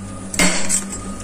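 Garlic cloves struck with a utensil to crush them for a stir-fried pak choy and prawn dish, a single sharp clattering knock on a hard kitchen surface, close and fairly loud, with no talk.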